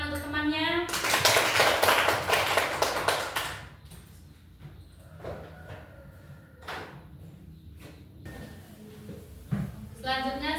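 Classroom applause from students clapping for a classmate, a dense burst of many hands lasting a few seconds, then fading into quieter room noise with scattered taps and a voice.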